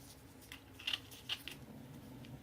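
Scissors trim something off, two or three quiet, crisp snips close by against a soft background hush, no talking.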